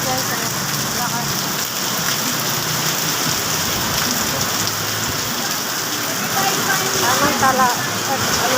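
Loud, continuous downpour of heavy rain hammers down without a break, close and enveloping, while someone talks over the noise.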